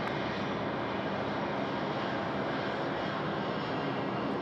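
A Jetstar Airbus A320 jet passes at Sydney Airport, a broad, steady roar of engine noise that stays loud and constant throughout, heard from a spotting mound near the runway.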